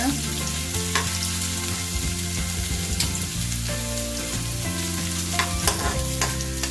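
Ginger sautés in hot oil in a pan with a loud, continuous sizzle, while a steady low hum runs underneath and occasional stirring clicks cut through.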